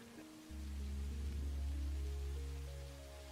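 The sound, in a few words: rain in the video game Satisfactory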